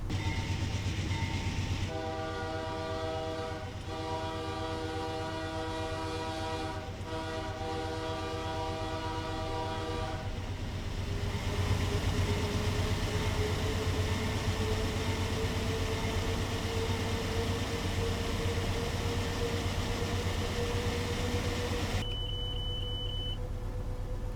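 An AC4400CW diesel locomotive in Train Simulator Classic notches up. A steady low engine drone rises slowly in pitch as the load builds, with tonal horn-like bands early on and a brief beep near the end, and no talk.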